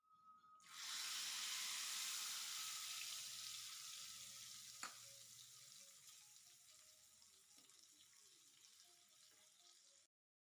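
Garlic and asafoetida hit hot oil for a tempering of spinach and toor dal, bursting into a loud sizzle that gradually settles into a steady hiss, with one sharp pop midway.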